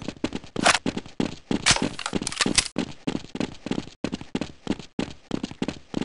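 Famas rifle fire from Counter-Strike 1.6 comes in rapid, dense bursts of sharp cracks, loud and close, with short gaps between volleys.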